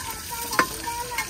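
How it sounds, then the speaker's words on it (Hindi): Tadka sizzles steadily in hot ghee in a village kitchen, a continuous crackling fry with one brief scrape of stirring partway through. "गहरा तड़का लगाया है"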